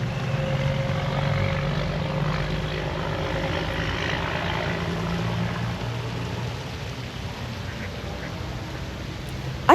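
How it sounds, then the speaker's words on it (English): Ducks quack steadily by a hotel pond in Lancaster, a low mechanical drone running beneath the calls for most of the stretch; no one talks. "I just like all the sounds of the ducks"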